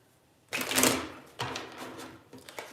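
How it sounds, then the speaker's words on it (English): Tarot cards slip and tumble onto a surface in a couple of quick papery bursts, a louder clattering spill followed by smaller shuffling drops, close and fairly quiet. "My cards are falling."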